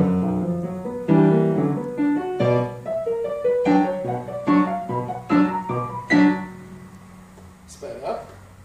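Solo piano plays a slowed passage from Chopin's Scherzo No. 1 in a hemiola rhythm: heavily accented chords ring out one after another, each decaying before the next, then fade to quiet.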